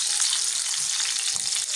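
Dried pangasius fish fries in a pan with a steady, dense sizzle and crackle, close and continuous.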